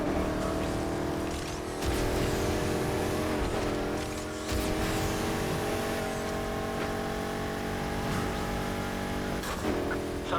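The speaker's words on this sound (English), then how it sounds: "Going after a hot shot in a 65 Mustang." A 1965 Mustang races through a street chase in the game NFS Heat, its engine droning loud and continuous with revving shifts and brief tire squeals.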